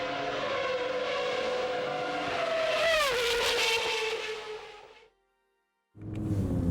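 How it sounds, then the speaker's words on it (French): A Renault Espace F1 car screams past on the Paul Ricard circuit, its loud high-revving engine whine dropping sharply in pitch as it passes, fading away, then roaring again after a brief silence. "le Renault Espace F1"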